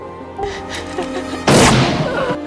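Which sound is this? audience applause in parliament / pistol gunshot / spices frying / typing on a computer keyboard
pistol gunshot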